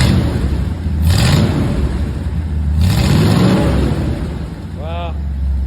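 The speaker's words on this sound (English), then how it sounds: "it might be too much open exhaust and not the drone sound" A Ford F100 engine with shortened glass pack exhaust revs up twice in a garage, each rising blip dropping back to a rumbling idle, with people talking briefly nearby.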